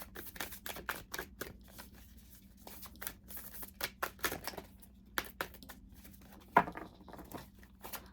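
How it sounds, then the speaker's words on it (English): Quick riffling and soft slapping of tarot cards being shuffled close by, coming in uneven bursts with small taps between. "I'll shuffle it 2 more times."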